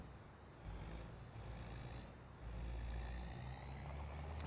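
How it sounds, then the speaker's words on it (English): Heavy truck engine idling and rumbling steadily in Farming Simulator 25, with a constant low drone and a faint high whine, swelling louder twice as the engine revs; no air-brake hiss stands out clearly. "this is a new truck, new edition."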